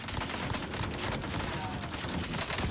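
Rapid bursts of automatic gunfire crackle continuously in a video game shootout, dense and fairly faint, with no clear pauses.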